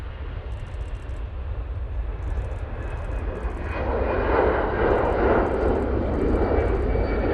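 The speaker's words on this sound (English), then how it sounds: "We'll be going with this 320 CEO." An EasyJet Airbus A320ceo takes off from Manchester Airport for Faro. Its engine roar swells midway into a loud, sustained rumble, heard alone with no speech.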